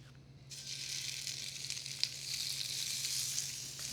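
Half a pound of coarsely chopped Kroger Mercado chorizo, casing removed, sizzles steadily in a skillet over medium-high heat, a constant close hiss with a few small pops and no talking.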